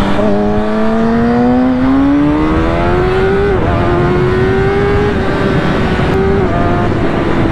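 A 2020 Kawasaki ZX6R engine revs loud and close, its pitch climbing steadily, dipping briefly, then holding high and pulling on with no talk over it.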